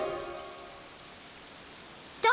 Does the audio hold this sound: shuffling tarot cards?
no